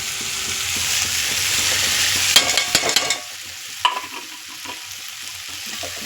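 Bitter gourd and brinjal stirred into a hot spiced pan, with a soft steady sizzle beneath a few sharp scraping clinks of a spatula and a closer clatter near the end.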